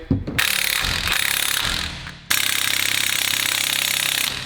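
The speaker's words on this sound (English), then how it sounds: "So I'm just gonna hit them with an impact." Impact wrench tightening wheel bearing bolts on a 6.7 Cummins truck, heard up close as two loud, sustained hammering rattles, the second longer, with no talking.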